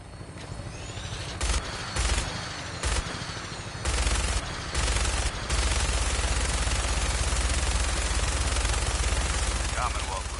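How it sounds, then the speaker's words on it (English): Helicopter-mounted minigun in Fallout 4 firing in short bursts and then a long continuous roar of rapid fire, loud and close over a steady rotor drone. "That minigun in front of you is loaded and ready to fire."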